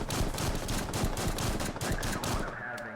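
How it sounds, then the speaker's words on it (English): Rapid bursts of gunfire ring out in the video game The Walking Bean in Rec Room, with shots repeating in a fast, uneven rhythm throughout and loud up close. "Why is the shooting so random?"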